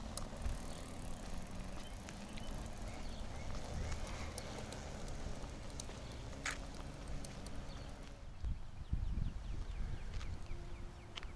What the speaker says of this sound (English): these bigger tires, though, with the knobbies, they do make some noise when you get up to speed